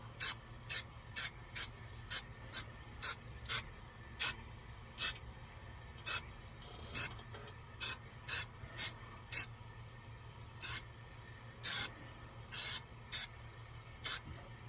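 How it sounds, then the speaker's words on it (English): A spray can, a can of 78 spray adhesive lightly sprayed onto a cheap plastic skeleton's rib cage, hisses in short, sharp bursts, about twenty quick puffs in a steady, slightly irregular rhythm, close up with quiet background. "I'm going to take my 78 and lightly spray"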